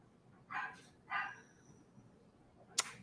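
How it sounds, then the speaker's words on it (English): Two short barks from a dog named Toto, somewhere in the background of an otherwise quiet outdoor setting, followed by a sharp click near the end. "So if you hear Toto barking in the background"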